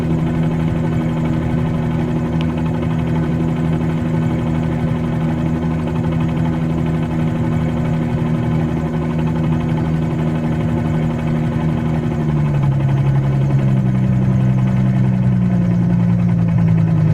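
A simulated helicopter engine in Microsoft Flight Simulator 2020 winds down on the ground, a steady turbine whine and rotor drone holding before the pitch drops and the sound eases toward shutdown, with no talk.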